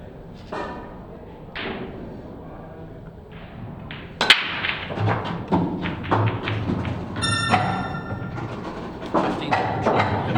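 A pool break shot at a UP Champions League match: one sharp crack of the cue ball hitting the rack, then a scatter of clacking and thudding balls across the table under quiet room sound.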